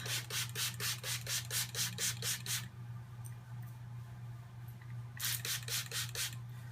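Rapid, repeated spritzes from a spray bottle wetting hair come in two quick bursts of about ten squirts each, with a steady low hum underneath.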